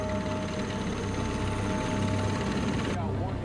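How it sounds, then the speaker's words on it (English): A helicopter evacuates the seriously injured from a disaster scene, its rotor and engine drone steady and continuous throughout. "A helicopter evacuated the most seriously injured."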